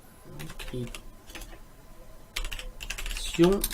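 Computer keyboard typing a description in Notepad, scattered clusters of close key clicks with pauses between, under someone speaking French.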